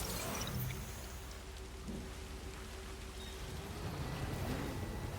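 Steady, dense rainfall in the video game Death Stranding 2: On the Beach, a continuous even hiss with occasional low rumbles, heard alone without voices.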